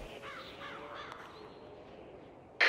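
A crow in the game GTA gives a run of rapid caws, clear and fairly close over a steady background, cut off by a sudden loud burst at the end.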